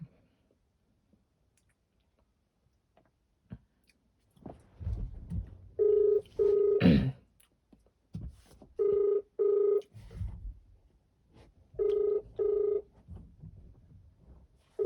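Telephone ringback tone during an outgoing call, with dialing clicks first and then a steady repeating pattern of ring bursts, each about a second long, sounding alone on a quiet line.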